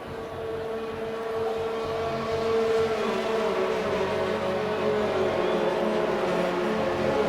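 Race cars rolling on a formation lap at the Canada round of a racing video game, a steady droning engine hum with a rising and shifting tone, engines held at low revs, continuous and moderately loud.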